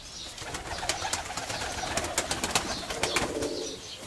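Several decorative Volga ribbon-tailed pigeons coo softly inside a loft, overlapping soft calls over a background of rustling and scattered sharp clicks of movement.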